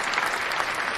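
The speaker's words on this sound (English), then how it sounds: "the crowd is excited" A crowd applauds, a short dense burst of clapping that is loud and continuous with no gaps.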